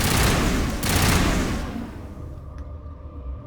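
Gunfire in the video game Mass Effect 1 rattles out as a loud burst of rapid shots over about two seconds, then drops to a low rumbling tail with one faint click.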